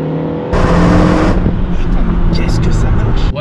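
A turbo hybrid car tuned to 300 hp and 400 Nm with pop-and-bang mapping roars as it accelerates, a loud close engine note with intake noise and crackling bursts, heard from inside the car.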